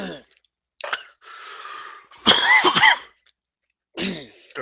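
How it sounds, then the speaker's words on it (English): A person coughs several times in short harsh bursts, close up, with a throat-clearing rasp between fits and brief silences. "Got a bit of a cough"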